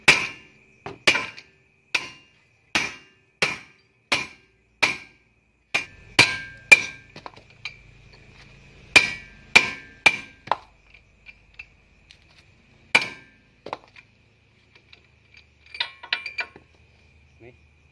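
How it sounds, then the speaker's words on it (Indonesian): A hammer knocks the axle out of a motorcycle's disc brake wheel: about fifteen sharp, ringing metal strikes, steady at first, then more spaced out, with a few lighter taps near the end. "Ini dipalukin bro."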